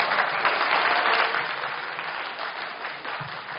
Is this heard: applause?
yes